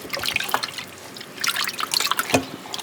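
Printed cross stitch fabric sloshed by hand in a pot of rinse water, giving soft, irregular watery splashes and drips that rise and fall in bursts, close by and fairly quiet.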